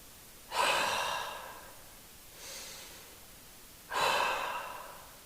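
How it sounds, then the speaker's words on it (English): Slow, deep breaths during a yoga class: three long airy exhalations about two seconds apart, close and clear, with the middle one softer and no talking. "2 breaths here."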